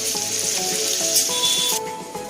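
Paneer sizzles and crackles steadily in hot oil, a bright continuous frying hiss with a few faint clinks.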